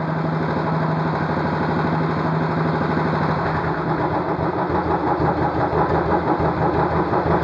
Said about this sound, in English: Now I'm leaving the throttle, so it will come down.